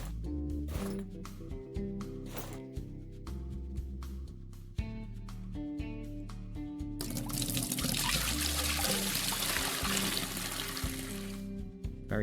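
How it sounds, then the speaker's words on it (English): Tap water running from a sink into a bucket in the aquarium-keeping game Aquarist, a steady rushing pour that begins partway through and grows loud and hissy over background music with no talk. "click on the sink to fill it with water."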